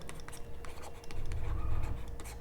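Steady scratching of chalk or marker writing on a board during a maths lesson, close and moderately quiet, with strokes running continuously for a couple of seconds.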